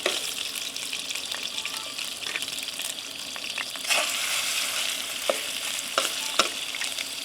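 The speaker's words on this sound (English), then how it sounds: "I'm going to try searing them" Catfish sear over an outdoor campfire with a close, continuous sizzle and crackle, broken by a few sharper pops and stirring scrapes, and no voices.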